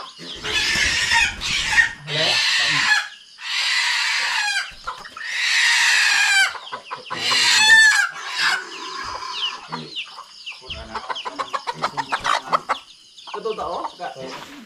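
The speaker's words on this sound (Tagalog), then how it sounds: "Marami nang manok sa camera dito oh." Backyard chickens cluck loudly and close, with a rooster crowing among them, in several bursts followed by rapid repeated clucks and softer chatter.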